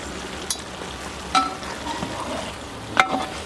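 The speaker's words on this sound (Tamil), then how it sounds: "அப்படியே மசாலாவோட கறியை நல்லா கலந்து விட்டுறேன்னா" Beef pieces being stirred with biryani masala in a pot, giving a few soft scraping knocks against a low, steady background hiss; no voices.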